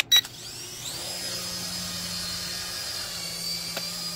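A KY202 Black Bee toy helicopter spins up for takeoff, its steady high-pitched rotor and motor whine rising after a brief click and then holding close and constant.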